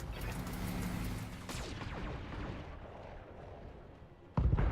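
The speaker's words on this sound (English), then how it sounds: "Machine gun ammo destroyed, ammo explosions" Mech ammunition cooks off in the BattleTech video game as a Battlemaster is hit, a heavy booming blast that rumbles and decays over several seconds before another sharp explosion bursts in at the end.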